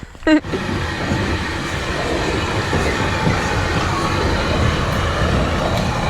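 A train rolls past nearby with a steady, loud rumble and rhythmic clatter of wheels, preceded by a brief sharp sound at the start.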